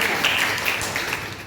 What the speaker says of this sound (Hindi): उसके लिए एक बार जोरदार तालियां बजाओ